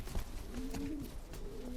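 Kipp und Söhne pigeons cooing in a breeding loft, a soft drawn-out coo rising and falling over a steady low background hum, moderately near and unaccompanied by voices.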